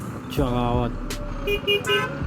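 A Bajaj Dominar 250 motorcycle sounds its horn in city traffic, with a few short toots and one longer blast close to the rider, mixed with a talking voice and a low engine rumble.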